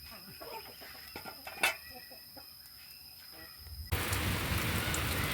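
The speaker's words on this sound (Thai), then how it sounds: "ฝนจะตกพี่น้องเอ้ยสิได้ย้ายต่อไผ่เข้ามาในก่อน" Rain begins on a rural homestead: chickens cluck faintly over quiet background, then a sudden steady, loud hiss of rainfall takes over for the last second and a half.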